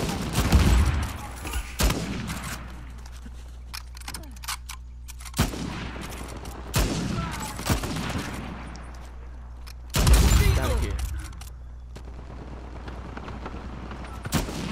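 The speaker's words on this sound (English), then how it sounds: "This guy's blind firing me around this corner right now." Video game firefight with bursts of gunfire and heavy booming shots, loud and close, separated by quieter stretches, with a player's voice talking at times.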